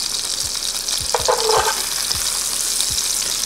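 Hamburger steak patties searing in a skillet with a strong, even sizzle and a few low thumps and spatula scrapes, close and alone.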